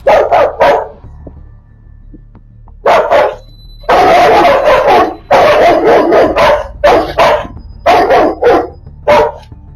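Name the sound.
Rottweilers barking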